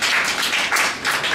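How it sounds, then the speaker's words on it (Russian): Brief burst of clapping from a small audience at a poetry theatre evening in a rock cafe, a few seconds of dense, fairly close hand claps with no talk. "Аплодисменты давай."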